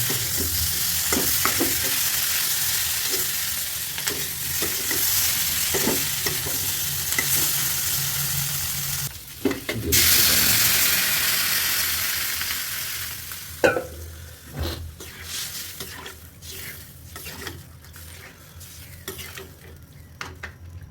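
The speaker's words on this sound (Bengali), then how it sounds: "ভালোভাবে নাড়তে হবে।" A spoon stirs tilapia curry with potato, eggplant, ginger and chili in a pan, with a constant oily sizzle and repeated scraping clinks against the metal, a brief louder hiss midway.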